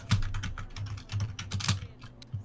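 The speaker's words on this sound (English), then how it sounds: "I hear angry typing." Angry, rapid typing on a computer keyboard, a quick run of sharp key clicks in bursts with short pauses, close and fairly loud with no talking.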